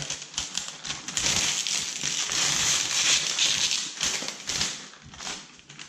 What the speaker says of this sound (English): I'm going to go ahead and peel the film.